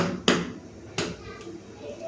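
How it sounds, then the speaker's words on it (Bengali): An egg is cracked for an omelette: two sharp, close knocks against a hard edge, then a softer third tap, with quiet room tone between and no talking. "এখন আমি ডিমটা ফাটিয়ে নিই ডিম ভাজা করব"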